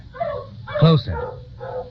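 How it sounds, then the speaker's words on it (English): Dogs bay in the distance as a radio drama sound effect, a short howling yelp rising briefly under the wash of other sound, faint and far off. "she listened to the distant baying of dogs"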